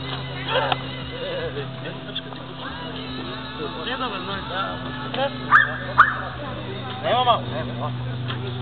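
A dog barks and whines in short, excited bursts, mixed in with people talking close by over a steady low hum.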